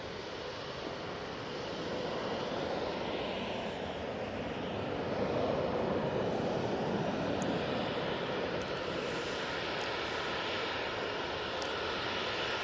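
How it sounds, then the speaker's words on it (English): An easyJet jet takes off at Manchester Airport, a steady wash of distant engine roar building slightly and holding; fairly faint, with a few faint high clicks and no talk. "easyJet 2200 off to Tivet."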